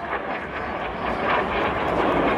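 BAE Hawk jets of a display team's synchro pair pass at the English Riviera Air Show, a loud, steady broadband jet roar that swells slightly toward the end with no break.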